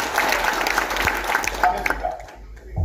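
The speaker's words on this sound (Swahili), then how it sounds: "Tupigie makofi mazuri." A crowd at a community meeting in Murang'a, Kenya, gives a round of applause that holds steady for about two seconds and then quickly fades away.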